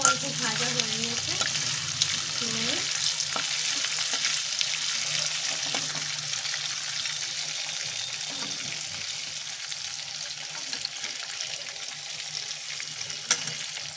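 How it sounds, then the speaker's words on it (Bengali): Chicken pieces sizzle in hot oil in a pan while chicken kosha is being made. A steady, loud frying hiss continues throughout, with occasional stirring scrapes. "অল্প অল্প ভাজা হয়ে নিয়েছে।"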